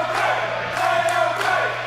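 Wrestling crowd at a tag match cheering and roaring continuously, dense and loud, with swells of whoops and shouts rising as a wrestler rallies the fans.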